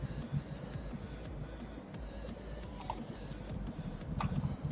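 A password is typed on a computer keyboard while a Cisco router is being set up. Faint, scattered key clicks sit over a low background hum.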